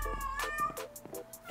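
A nearby cat gives a rapid series of short, tonal meows against a quiet background, about five or six calls in under two seconds, heard during a Minecraft Sky Factory 3 session.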